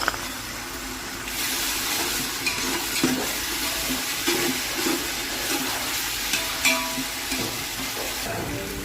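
Ginger garlic paste fries in oil for biryani, making a constant hissing sizzle with occasional stirring scrapes, close and fairly loud throughout, with no talking.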